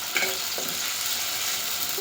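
Ginger garlic paste frying in hot oil in a pan, a steady, loud crackling sizzle that continues without pause, with no talk over it.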